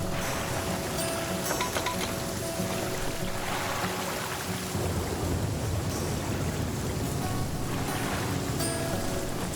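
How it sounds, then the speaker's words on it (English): Rain pours down with rolls of thunder in the game The Flame in the Flood, a dense constant hiss of rainfall broken by a few swelling, crackling rumbles, with no voices. "Rain pours down and thunder cracks the sky."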